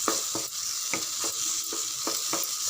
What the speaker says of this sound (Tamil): இங்கே கொஞ்சம் வதங்கட்டும்.